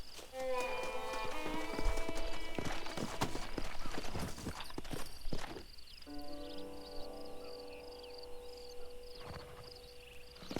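Horse hooves clip-clop rhythmically in Red Dead Redemption, steady and close, alongside game sounds and tonal effects, with a possible whinny and no clear speech.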